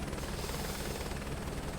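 A helicopter in Microsoft Flight Simulator 2024, crop dusting low over the ground, gives a loud continuous rotor and engine roar, steady and unbroken throughout.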